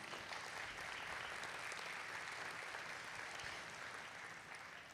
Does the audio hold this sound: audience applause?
yes